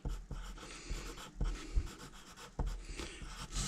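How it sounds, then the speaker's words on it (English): A pen or pencil writing the word pyramid on paper, faint scratchy strokes coming in short bursts close to the listener. "I'm going to write pyramid"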